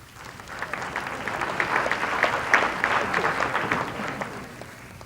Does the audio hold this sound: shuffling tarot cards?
no